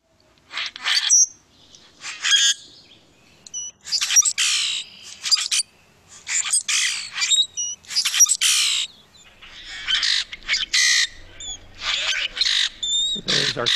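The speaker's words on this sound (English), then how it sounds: "There's our common grackle." Common grackle giving harsh, squawky calls in a string of short bursts, fairly close and loud, with brief gaps between calls and no talking over them.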